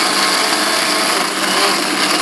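A blender runs steadily on roasted spices such as coriander seeds, a continuous close whirring drone with no voices over it.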